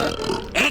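A short, throaty burp in a cartoon about bad manners, a single close, rough belch lasting under a second, with no talking.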